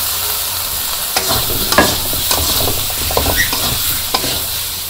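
Potatoes go into hot spiced oil in a pan for a meat and potato curry, setting off a loud, close sizzle with scattered pops, spatters and clinks of stirring throughout.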